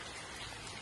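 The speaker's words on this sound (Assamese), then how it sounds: "বৰষুণ পৰি আছে" Steady patter of rain falling in a village, a dense even hiss throughout this brief moment.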